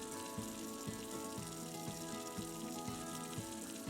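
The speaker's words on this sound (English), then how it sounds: "Let's pump some water." Water pump running in the building game Havendock, a steady looping mechanical gurgle with a regular rhythmic thump about every half second, moderately loud and continuous with no talking.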